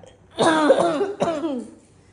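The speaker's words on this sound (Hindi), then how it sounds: "खांसने से भी डबल आवाजें निकल रही हैं गाइस।" A woman coughs twice in close succession, two harsh, raspy bursts close to the microphone, the first longer and the second shorter, with brief quiet before and after.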